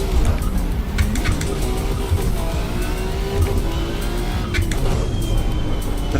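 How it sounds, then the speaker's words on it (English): A BMW in the Assetto Corsa EVO racing game sliding at low speed, loud steady engine drone with a thin rising tire squeal layered over it, close and continuous throughout. "The famous BMW low speed skid"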